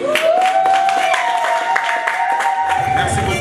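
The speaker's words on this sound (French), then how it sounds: "Est-ce qu'on peut applaudir?" Guests at a 21st wedding anniversary celebration in Houston applaud together, a busy burst of clapping mixed with cheering and a held tonal sound, likely music, running underneath.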